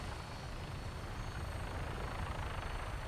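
A vertibird helicopter lifting off in Fallout 4, a dense continuous rotor thrum with a low heavy rumble and broadband wash, steady and loud without any voices.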